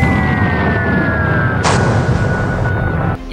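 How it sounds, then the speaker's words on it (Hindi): Atomic bomb explosion over Hiroshima in 1945, rendered as a loud, continuous blast roar with deep rumbling and whining tones that surge midway, then cut off abruptly near the end. "जोर से धमाका होता है।"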